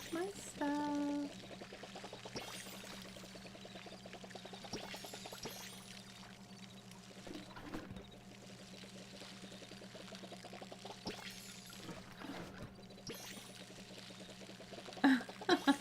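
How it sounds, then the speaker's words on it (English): Water pours steadily from a watering can onto plants in the video game Palia, a continuous soft stream under gentle game music and ambient sounds. "Let's water all of my stuff."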